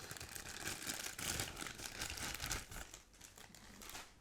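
Plastic wrapping crinkled and pulled off a camera lens, close continuous crackling and rustling with no talk.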